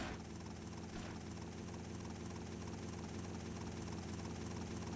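Steady, unbroken helicopter rotor and engine drone from GTA Vice City Stories, fairly quiet and even throughout, with a faint bump near the start and no voices.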